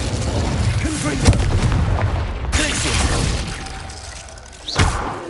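Fiery Confringo spell blasts in the Hogwarts Legacy video game, a booming explosive thump with crackling burst, followed by more impacts, loud and close amid game noise.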